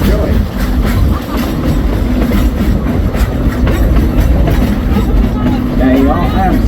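A two-foot narrow-gauge train rumbles along the tracks in the Ozarks with a steady, loud clatter and rhythmic clacks, and people talk faintly underneath.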